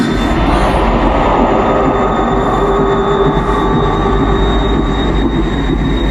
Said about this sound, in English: I'm on a train from tonight to Complicite.